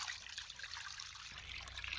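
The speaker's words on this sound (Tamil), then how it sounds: "தண்ணி ஊத்து ஊத்து" Water is poured by hand while cleaning fish for cooking, a steady splashing trickle lasting a couple of seconds, fairly quiet and without talk.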